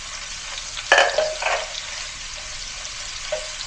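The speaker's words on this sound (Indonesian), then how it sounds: "Sekarang kita masukkan terlebih dahulu bawang putih," Garlic goes into hot oil and sautés, a sudden loud sizzle with stirring scrapes that settles into a quieter steady hiss, with another brief scrape toward the end.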